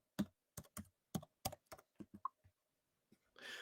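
Quick keystrokes on a computer keyboard in an irregular burst of about a dozen sharp clicks, fairly close and clear, trailing off into a short rustle at the end.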